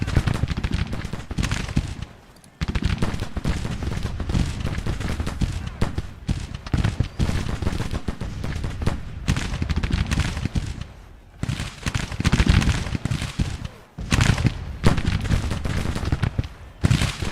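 Troops opening fire in the Civil War strategy game Grand Tactician: The Civil War, loud crackling musket volleys rolling on almost without pause, broken by a few short gaps.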